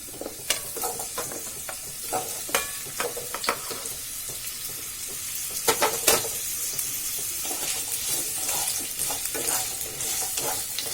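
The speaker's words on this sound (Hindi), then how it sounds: "अब इसमें हम ड्रम स्टिक को फ्राई कर लेंगे थोड़ा।" Drumsticks frying in hot oil in a kadai, a steady close sizzle broken by sharp crackles and spatters, with occasional stirring scrapes and no voices.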